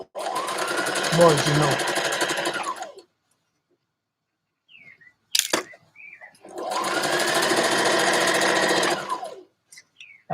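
A sewing machine stitches a dress in two long, steady runs, close and loud, with a pause between them where a voice speaks briefly.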